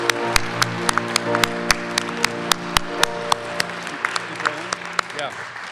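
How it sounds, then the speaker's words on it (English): Audience applause for the spellers at a regional spelling bee in a hall, a wash of clapping with sharp individual claps standing out and a low hum beneath. "Big round of applause for the spellers."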